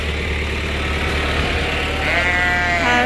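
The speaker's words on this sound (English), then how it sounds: "has our Dorset ewes that need the haircut and are gonna be breeding" Dorset ewes bleat inside a barn, with drawn-out, wavering calls growing louder toward the end over a low steady hum.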